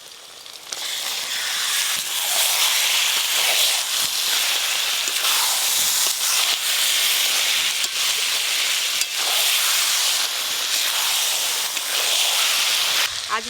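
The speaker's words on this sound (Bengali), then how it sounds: "এবার মশলা মাখানো খাসি মাংস দেবো।" Spiced, marinated mutton hits a hot pan for a curry and hisses loudly. A strong, steady sizzle holds close for over ten seconds, broken by faint clinks, with no talk.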